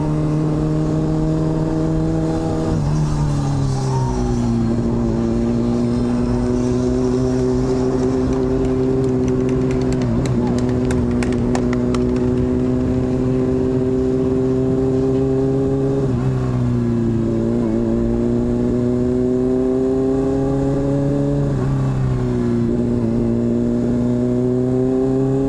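A motorcycle engine on the Las Vegas Strip held at a loud, steady drone, with several rises and falls in pitch as the rider blips the throttle, close and continuous for about twenty-five seconds with no talk.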